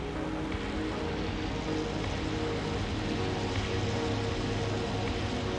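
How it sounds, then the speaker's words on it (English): Propeller warplanes taking off in a flight sim video game: a steady, dense drone of engines at full throttle, even and continuous throughout with no pauses. "Only when we saw a green flare did we push up the throttle to take off one after the other."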